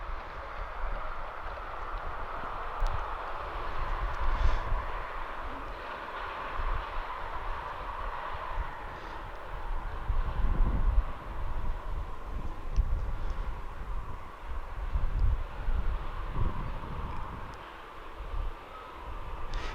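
An aircraft taxis at an airshow, producing a steady, broadband engine roar with a low rumble that swells and eases slightly as it moves around, heard from a moderate distance.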